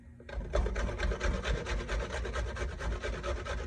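Vegetables, zucchini and carrot for a coconut raisin walnut bread, are grated by hand with fast rhythmic rasping strokes close by and steady throughout.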